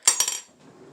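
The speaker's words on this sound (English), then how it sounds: "Let me grab a fork." A metal fork is picked up in a home kitchen, giving two quick bright clinks against other cutlery that ring briefly, then fade into quiet room tone.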